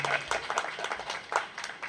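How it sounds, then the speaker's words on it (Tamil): Scattered, loose hand clapping from a modest audience at a Tamil pattimandram debate, irregular and moderately quiet, with faint voices mixed in underneath. "சத்தம் பார்த்தா சார் நல்லா கைதட்டுங்க சார்"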